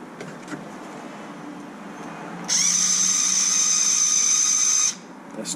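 A power tool whirs in one continuous high-pitched run of about two and a half seconds while driving a bolt to fit an LED kit on a Kraton 8S RC car, with quiet handling noises before and after.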